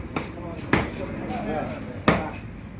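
A knife or cleaver chops a Katla fish into boneless pieces, with three heavy, separate thuds spaced unevenly over a low background murmur.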